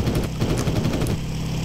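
Fighter plane machine guns rattle in a rapid, close burst over a loud engine roar in the IL-2 flight game, then the firing stops and only the drone remains.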